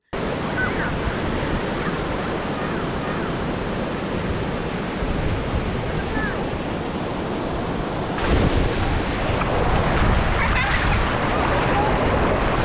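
Sea waves at high tide on Mandarmani beach, a broad continuous roar of surf washing in, close and loud, swelling stronger in the final seconds, with no clear speech over it.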